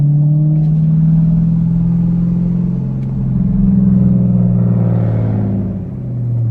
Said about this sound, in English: It sounds like a broken exhaust right now.